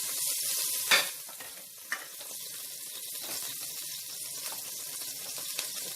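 Meat frying in coconut oil, a steady crackling sizzle with a few sharper pops and stirring sounds, fairly close and without talk.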